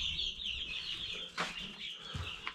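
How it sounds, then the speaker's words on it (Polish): A hen sitting on duck eggs clucks softly in a quiet coop, a few low throaty clucks with a couple of sharper calls, fairly close and alone with no talking. "Tam siedzi kura na kaczych jajkach."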